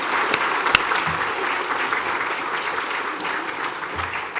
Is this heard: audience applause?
yes